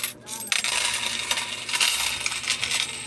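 Loose peso coins, mostly one-peso pieces with some fives, tens and twenties, clatter and jingle continuously up close as they are dropped and counted, with no voices.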